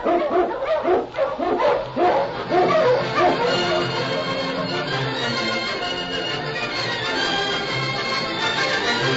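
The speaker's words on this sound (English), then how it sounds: "King, the swiftest, strongest of Eskimo lead dogs, blazes the trail through storm and snow for Sergeant Preston" A dog barks and yips in an old-time radio drama, the Eskimo lead dog King, with sharp repeated barks early that blend into a steady wash of howling wind and storm noise, fairly loud and close.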